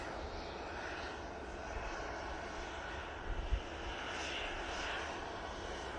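KLM Embraer jet airplane at Manchester Airport, a faint, distant, steady engine roar with a broad rushing whine carrying on throughout, heard alone in open air.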